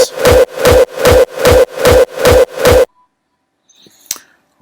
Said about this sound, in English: so we have the punch and we have the reversed reverb from the punch